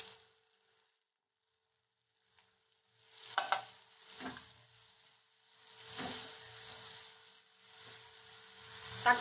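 Green chili and curry leaves sautéing in a pan, with a few short bursts of sizzle and stirring separated by near-silence, faint and close.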